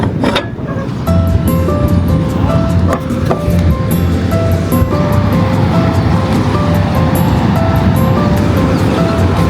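Ocean waves wash onto a beach at Cloud 9 in Siargao as a loud, steady surf roar, heavy wind buffeting the microphone, with faint tonal sounds over it.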